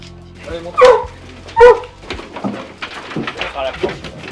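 Hunting hounds, a pack of about sixteen used for chasing roe deer, barking and whimpering while being loaded for the hunt, with two sharp close barks and whines and yips amid voices talking.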